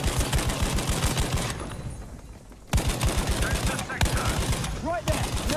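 A machine gun in Battlefield V, on the Arras map in Breakthrough mode, fires long rapid bursts of close, loud shots. The fire breaks off for about a second, then resumes.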